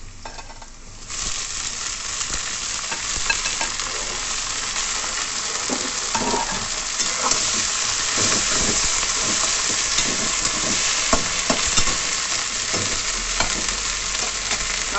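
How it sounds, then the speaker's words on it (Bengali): Fenugreek greens fry with potatoes in a pan, a steady close sizzle with scraping stirs throughout and no talking. "এবার আমি শাকগুলো দিয়ে দিচ্ছি।"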